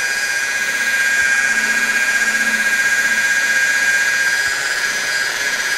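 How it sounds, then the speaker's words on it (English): A car polisher buffing a painted panel under light pressure, giving a steady, even motor whine with a faint rhythmic wobble, close and alone throughout. "I don't want to catch an edge with the polisher."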